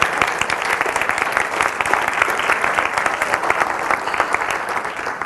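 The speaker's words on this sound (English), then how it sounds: "I want a big round of applause for an amazing Rainmaker" A packed room of attendees at an evening community event gives a sustained round of applause, dense overlapping claps filling the space steadily for several seconds with no talking.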